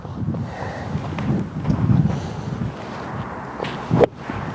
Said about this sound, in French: Il y a un léger vent qui arrive en fait, qui est comme ça, qui est dans mon dos, je le sens.